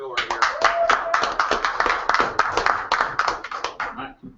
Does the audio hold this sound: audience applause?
yes